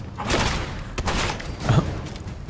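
Gunfire in the Fallout 4 video game, a burst of muffled shots and thuds spread across a noisy, dense background, with sharper cracks standing out briefly.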